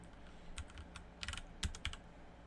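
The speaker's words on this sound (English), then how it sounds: "I'm gonna actually type search here." Keys clack on a computer keyboard in a short, quiet burst of irregular typing, a handful of close, crisp taps.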